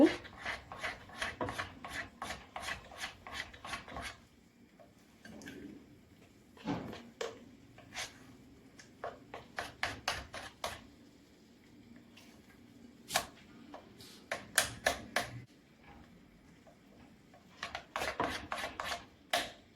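Batter for a Bengali sugar-coated snack being beaten by hand in a bowl, with bursts of quick, close scraping and rubbing strokes, rhythmic and fairly loud, broken by short pauses.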